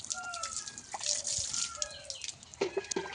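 Water splashes and drips over a pet bird being bathed, with soft trickling and faint chirps throughout and a few sharper splashes near the end.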